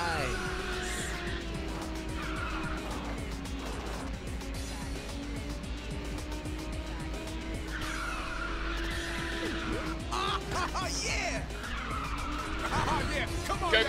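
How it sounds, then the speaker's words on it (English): Tires skid and squeal as a Melfire car drifts on nitrous in Ridge Racer 6, a sustained screech over a high revving engine hum, loud and continuous with a brief burst near the end, a voice talking over it. "Give it up for nitrous drifting."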